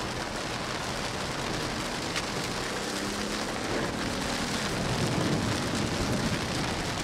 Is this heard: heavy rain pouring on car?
yes